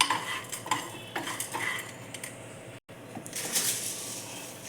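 Urad dal, chana dal and cumin rattle and scrape as a spoon stirs them around a dry pan, with light metallic clinks and a faint crackle, fairly close and without talking.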